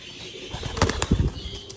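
A brief burst of pigeon wings flapping close by, with soft cooing around it, lasting under two seconds.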